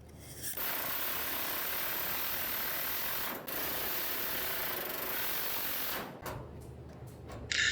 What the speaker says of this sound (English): If we work carefully, slowly turn down the pressure on the air hammer, well, we can work around the resistance welds